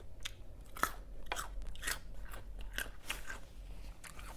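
Biting and chewing crunchy, firm-fleshed fruit, several sharp close crunches in an irregular rhythm, alone without talk.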